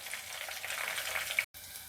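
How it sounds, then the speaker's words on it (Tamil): Homemade coconut hair oil with flowers and onion simmers in a pan on low heat, giving a quiet, steady sizzle and fine bubbling throughout. "எண்ணெய் கொஞ்சம் நேரம் சிம்மில் கொதிச்சுக்கிட்டே இருக்கட்டும்."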